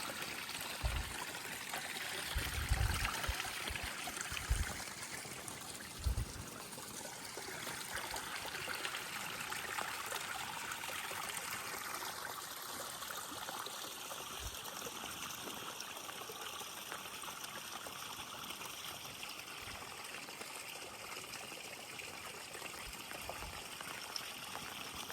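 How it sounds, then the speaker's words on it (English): Water flows steadily in a stream at Rinsen-ji temple in Joetsu City, a continuous soft rushing wash with a few low bumps near the start. "You heard that water flowing"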